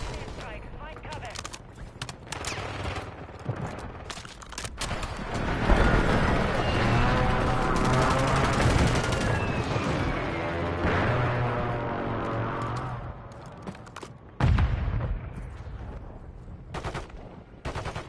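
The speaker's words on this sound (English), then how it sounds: "Friendly precision airstrike inbound." In the video game Warzone, bursts of automatic gunfire and booming airstrike explosions build to a dense, rolling barrage mid-clip, then come sporadic shots and another blast. The mix is fairly quiet overall, with voices heard at times.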